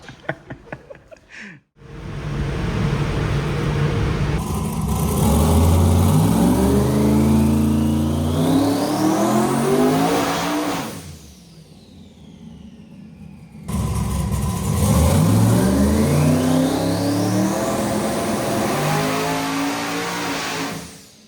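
A twin-turbo Camaro engine revs at full power on a dyno in two long loud pulls, pitch climbing steadily through each run, separated by a brief quieter lull near idle.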